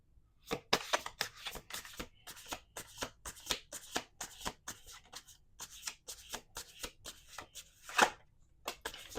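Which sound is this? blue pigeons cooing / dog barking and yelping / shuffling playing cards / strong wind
shuffling playing cards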